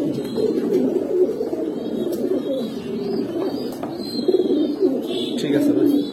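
Giribaz and ringed pigeons coo steadily in a loft, several birds overlapping in a continuous low murmur with occasional brighter calls above it throughout.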